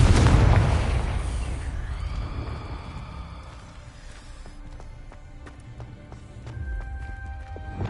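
Confringo blasting spell from Hogwarts Legacy bursts loudly at the start, a heavy booming blast with crackling debris that decays over a couple of seconds, followed by a quieter rumbling tail scattered with small clicks and chimes.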